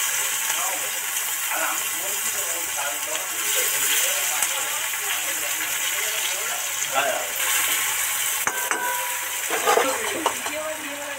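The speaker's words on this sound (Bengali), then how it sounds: "এবার পেঁয়াজটা দিয়ে দিচ্ছি।" Chopped onions sizzling in hot oil in a pan, cooked as part of a pomfret fish dish: a steady close-up hiss throughout, with faint voices at moments underneath.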